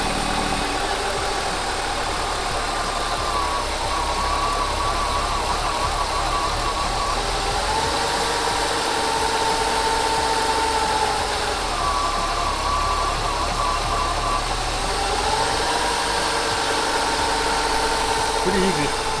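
A warmed-up BMW car engine idles steadily with its oil cap popped off, a constant close mid-pitched hum and rumble running throughout.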